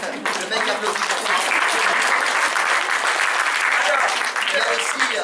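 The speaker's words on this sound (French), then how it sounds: "Le mec applaudit pour ça" A theatre audience applauds, a loud, dense clatter of many hands clapping steadily throughout with voices mixed in underneath.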